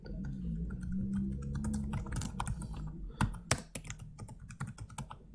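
Rapid, irregular clicks of typing on a computer keyboard, entering numbers into a spreadsheet during an office software exercise; close, dry keystrokes with a few sharper taps, no voices.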